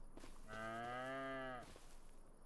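A single drawn-out moo from a cow in the video game Farming Simulator 25 lasts about a second, clear and alone over a quiet background.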